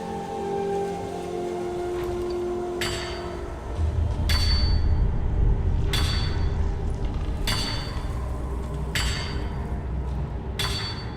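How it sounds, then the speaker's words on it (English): A blacksmith in Skyrim strikes metal with a hammer in evenly spaced ringing blows, each sharp clang standing out against a steady rushing ambient backdrop. "This one here is pounding and hammering, yes?"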